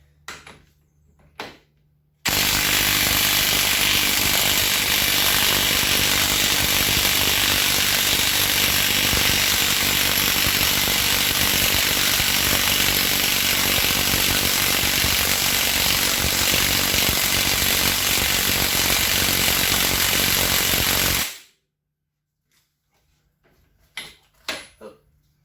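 A Polaris Sportsman ATV rear wheel bearing being driven out by a power tool that runs steadily and loudly for about twenty seconds, with brief knocks before and after.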